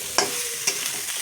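Spoon stirring fish head and tail through a spice masala in a hot pan, two sharp scraping strokes over a steady low sizzle, close and alone.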